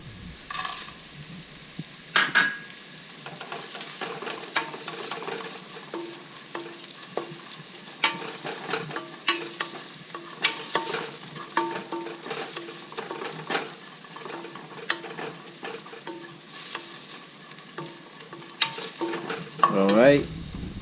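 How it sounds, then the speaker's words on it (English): Fried shallots stir-fried in a pan for Vietnamese braised catfish, with a soft sizzle under repeated scraping and clanking of a utensil against the pan, close and irregular, sharper knocks at the start and end. "Stir fry until it's turned brown a little bit."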